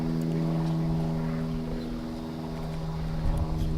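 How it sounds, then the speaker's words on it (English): A propeller airplane drones overhead above a beep baseball field, a steady low hum holding at moderate distance throughout, with no talking. "We got another timeout for a plane."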